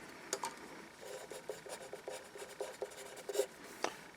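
A Staples HB pencil scratches across paper in short, quiet strokes, a soft rhythmic scribbling close by with no talking.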